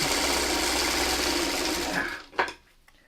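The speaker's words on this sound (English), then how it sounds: "I'm going to be sewing while we do this." A sewing machine runs steadily while joining quilt pieces for a chaos block, a close, continuous mechanical whir that stops abruptly near the end, followed by a brief clunk.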